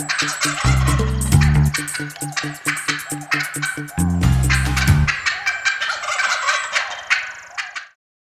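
Wild turkeys gobble loudly in repeated rattling bursts close by, with clucks from a hen in between, then the calls fade out to silence.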